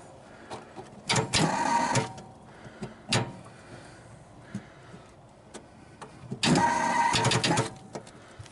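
The starter on a stuck old engine in a 1939 Chevy or 1948 Plymouth clicks and grinds in two short, harsh bursts. Scattered clicks and knocks fall between them, and no engine catches.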